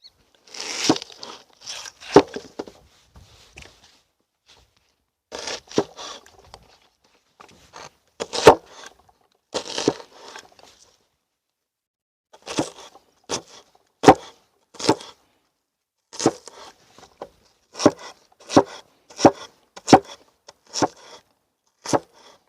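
A hatchet chops onion on a board outdoors in bursts of sharp, crunchy strikes, some in quick runs, others spaced with short pauses, close and clear.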